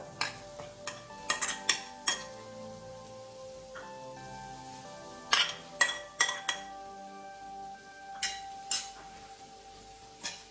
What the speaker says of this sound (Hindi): अभी हम इसमें डालेंगे पनीर और कैप्सिकम।